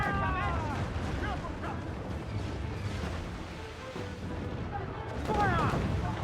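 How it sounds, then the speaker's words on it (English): Ship cannon fire in the naval combat of Assassin's Creed IV: Black Flag, heavy booms and rumbling blasts rolling under shouted crew voices, with sea noise and battle clamor throughout. "Put a shot right through there! Cannon ready! Fire!"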